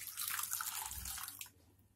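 Water poured from a vessel onto washed sabudana, a soft, close splashing stream for about a second and a half before it stops, fairly quiet.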